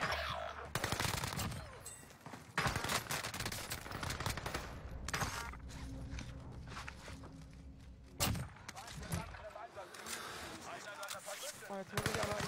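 Bursts of gunfire from a video game crackle in rapid volleys, with a weapon firing in repeated strings and a few sharp single shots, the noisy bursts fairly dense throughout.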